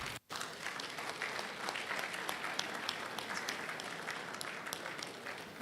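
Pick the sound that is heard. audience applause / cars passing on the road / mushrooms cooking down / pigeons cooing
audience applause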